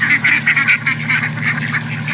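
Ducks in a garden quack and honk loudly and close by, their calls repeating in quick, overlapping bursts throughout.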